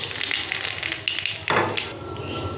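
Nigella seeds fry in hot oil in a wok with a soft, close crackling sizzle and a brief louder hiss partway through, then it settles back to a gentle sizzle.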